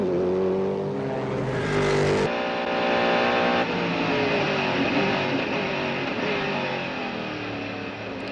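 A 1999 Mercedes CLR race car lapping Le Mans, heard onboard: a loud, continuous high-revving engine climbing through gears, with a sharp shift drop and sustained roar under steady wind and road noise.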